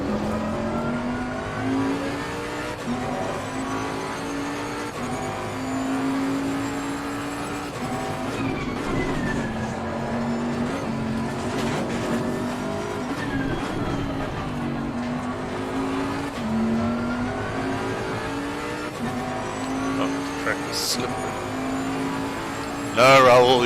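Race car engines in Assetto Corsa Competizione multiplayer racing, a steady drone of revving and shifting engines with occasional tire squeal running throughout, loud and continuous, with a voice talking over it at times.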